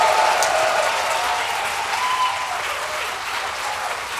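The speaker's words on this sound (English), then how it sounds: "letting me hear your round of applause" Broad, steady applause from a school-event audience fills the room at moderate loudness, holding evenly throughout and tapering slightly toward the end.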